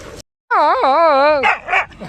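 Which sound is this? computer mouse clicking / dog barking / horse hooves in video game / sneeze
dog barking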